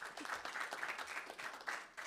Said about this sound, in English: please clap for Mr. Wimmer.